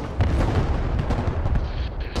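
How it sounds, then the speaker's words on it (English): A missile launch in Broken Arrow, a modern warfare strategy game, makes a steady, loud rumbling roar with a heavy low rush. It lasts the full two seconds and no voices sound over it. "High level missile just fired."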